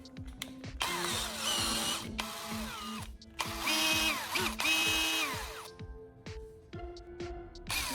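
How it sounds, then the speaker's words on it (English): A cordless drill whirs in several bursts, spinning up and winding down with pauses between, close and fairly loud, with clicks in the gaps. "Listen to that. The drill is working perfectly."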